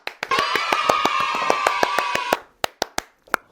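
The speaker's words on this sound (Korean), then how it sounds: "박수!" A burst of hand clapping from a small group or a single person, a steady rapid patter of sharp claps for about two seconds, then several slower, louder individual claps trailing off, close and alone without talk.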